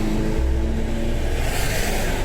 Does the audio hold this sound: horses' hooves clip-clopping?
no